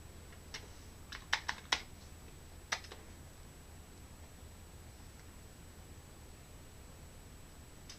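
Keys on a Commodore 64 keyboard tapped while deleting characters, a handful of sharp, isolated clicks in the first three seconds, then only quiet room hiss.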